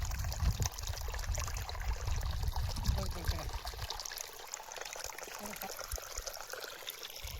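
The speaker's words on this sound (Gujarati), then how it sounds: "નાખીને પાણી ફેરવવાનું છે. ચાલુ છે પાણી." Irrigation water pours and trickles steadily into a paddy seedling field on a farm, a continuous low gurgle that drops off partway through, with no talk over it.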